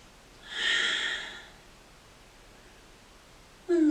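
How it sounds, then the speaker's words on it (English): A single long, breathy exhale during a yoga hip stretch, close and soft, rising and fading over about a second, followed by quiet room tone and the start of a spoken voice at the end. "Long exhale."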